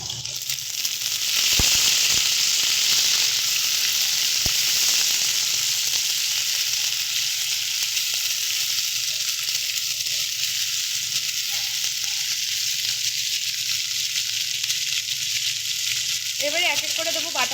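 Chopped raw tomato goes into onions frying in a pan, setting off a loud, steady hiss of sizzling oil with occasional clicks of stirring throughout.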